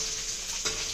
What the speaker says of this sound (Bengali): তো ইলিশ মাছ ভাজা হচ্ছে